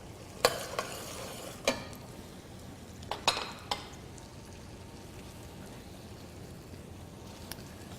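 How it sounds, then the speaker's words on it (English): Andouille sausage sizzling on a grill, a low steady hiss broken by a few sharp metallic clinks and scrapes of utensils, close up with no talking. "right now I'm grilling the andouille sausage"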